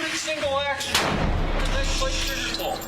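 A gunshot goes off in a workplace accident, a sharp, loud bang about a second in, followed by a ringing, rumbling decay under ongoing background noise.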